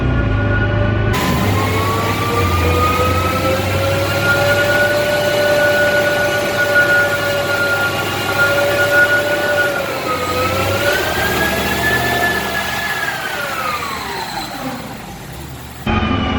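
A BMW M550i engine pulling hard on a dyno, a loud sustained roar whose pitch climbs steadily for about fourteen seconds, dips briefly and rises again before cutting off abruptly.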